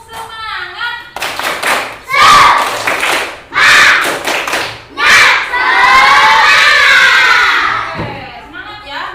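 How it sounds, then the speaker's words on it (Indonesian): A class of children doing a rhythmic 'tepuk semangat' clapping cheer, loud bursts of clapping and shouted chanting in repeated phrases, with a voice leading at the start and end. "Coba tepuk semangat"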